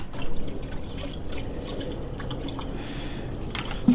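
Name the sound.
water filling a portable pool filtration pump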